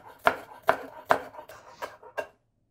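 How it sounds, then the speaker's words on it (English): A knife chops spring onion on a board in about six sharp, evenly spaced strokes that fade toward the end, close and fairly quiet, with no talking. "Chop up the spring onion."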